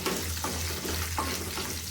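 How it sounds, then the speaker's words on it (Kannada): Food frying in a pan with oil on a home stove, with the ingredients cooked until they change colour. A steady, close sizzle runs throughout with a low hum underneath and occasional stirring. "ಸ್ವಲ್ಪ ಬಣ್ಣ ಬದಲಾಗಬೇಕು, ಅಲ್ಲಿವರೆಗೂ ಚೆನ್ನಾಗಿ ಫ್ರೈ ಮಾಡುವ"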